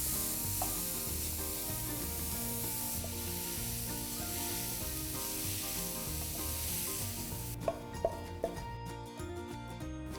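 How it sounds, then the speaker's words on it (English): Onions and finely chopped broccoli are stirred in a frying pan, a steady sizzle running under continuous scraping and rubbing from the spoon, with a few sharper knocks against the pan near the end. "Give this a good stir"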